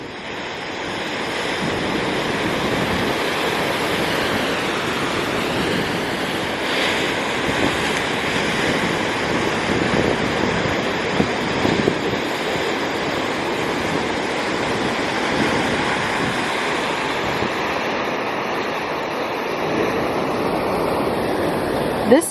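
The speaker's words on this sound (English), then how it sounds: "Holy cow, these waves are pretty big." Large ocean waves break on a beach along the Oregon coast, making a steady, loud, broad roar mixed with wind buffeting the microphone, with no one speaking.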